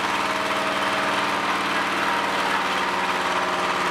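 A crunchy chips-making machine runs nearby with a loud, continuous, steady mechanical drone and hum that never varies, with no talk.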